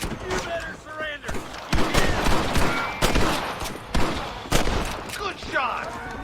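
Gunfire in Red Dead Redemption on Xbox 360: a ragged fusillade of sharp shots, several loud cracks spaced about a second apart amid scattered lighter pops and background game sounds.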